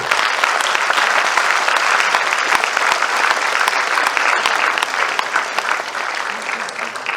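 An audience at a talk session breaks into loud, sustained clapping, a dense, steady wash of many hands that carries on throughout and eases slightly near the end.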